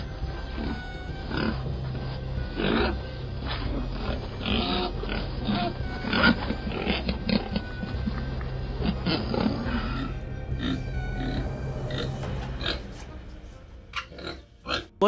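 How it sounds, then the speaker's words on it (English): Super pigs, a crossbreed of wild boar and domestic sow, grunt and squeal in a close, irregular stream under a steady background hum, with a voice talking over them much of the time. "They created the Super Pig breed by combining the genes of wild boars and domestic sows"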